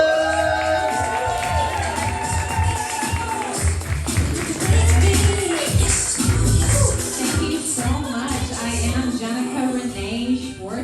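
A stand-up comedy audience cheers and claps for a comedian, a lively crowd roar that swells and dips, with a voice briefly audible at the start.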